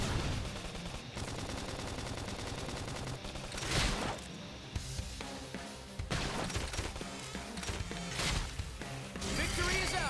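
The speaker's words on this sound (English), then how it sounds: "Flame Grenade!" Flame Grenade attack in the video game Xenoblade Chronicles X: dense, loud bursts of explosive blasts and rapid gunfire-like crackle with music underneath, surging in waves over the whole stretch.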